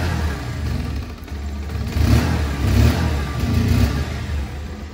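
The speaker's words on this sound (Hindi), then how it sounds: "सबसे पहले इंजन के साउंड को सुने" A 2023 Bajaj Pulsar 150 motorcycle engine runs nearby with a steady low rumble that rises in a couple of short throttle blips, no talking over it.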